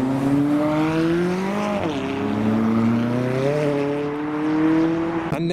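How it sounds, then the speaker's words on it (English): A lineup of colourful McLaren cars leaves a car show, their engines droning loudly and steadily with rising and falling pitch as they pull away together, ending with a brief sharper burst. "And now a lineup of colourful McLarens leaving together."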